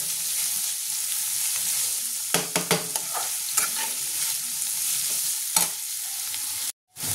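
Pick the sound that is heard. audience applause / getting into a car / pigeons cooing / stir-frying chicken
stir-frying chicken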